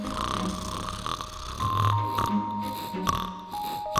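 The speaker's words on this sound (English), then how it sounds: "And he had curled up into a ball on the table and started snoring loudly." A drunk man snores loudly in rough, rumbling breaths, close and fairly quiet overall, with faint background sounds beneath.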